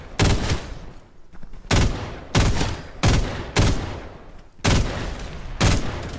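Video game gunfire in several loud, close bursts of rapid shots separated by brief pauses, about six volleys in a row.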